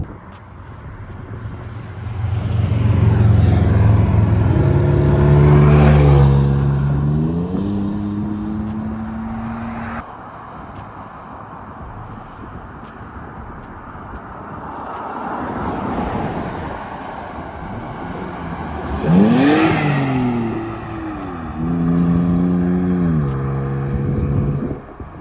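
A Toyota Tacoma fitted with an Amazon aftermarket exhaust revs up twice, each time climbing to a loud roar and falling back to a low idle rumble between the pulls.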